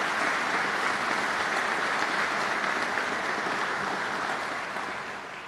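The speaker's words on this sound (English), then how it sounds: "That's worth a round of applause" Steady applause from an audience at a governor's bill signing for first responders, a dense, continuous wash of many hands clapping that holds evenly and then tapers slightly toward the end, with no voices over it.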